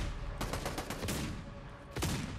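Bursts of rapid gunfire crackle in quick succession, followed by a pause and another sharp shot; no talking.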